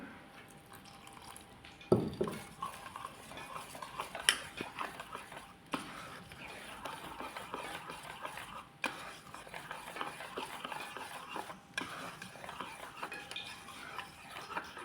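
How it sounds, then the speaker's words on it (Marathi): A spoon stirs thick bhaji flour batter mixed with water, making close, wet scraping and clinking against the bowl with irregular sharper knocks throughout. "हे आता मी असं ढवळून ढवळून बघा लगेच हे झाला मिक्स झाला"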